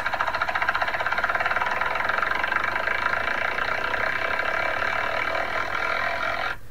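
Thai-style rice field tractor engine runs steadily, a loud, dense mechanical clatter with a rhythmic knocking pulse that holds for several seconds before cutting off abruptly at the end.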